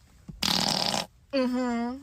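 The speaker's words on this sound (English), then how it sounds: "I'm farting on it." A close fart: a short, rough, broadband blast, then after a brief gap a buzzier, tonal, drawn-out stretch that fades at the end.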